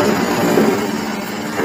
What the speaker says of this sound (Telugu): 2 HP మోటార్ సౌండ్ వినిపిస్తుంది.